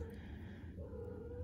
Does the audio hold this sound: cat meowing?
yes